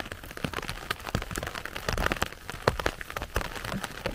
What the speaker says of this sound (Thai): ฝนตกคักตกแม่ไว้พี่น้อง